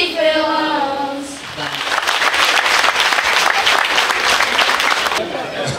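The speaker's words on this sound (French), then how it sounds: "On l'applaudit, s'il vous plaît." At a book dedication ceremony, a sung note trails off and an audience breaks into strong, steady applause that carries for several seconds before easing off.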